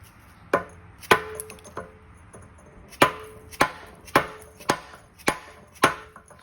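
A bushing tapped into a Mk3 Toyota Supra subframe, eased with WD-40: about eight sharp, hard knocks in an uneven rhythm, close and clear, with no talking.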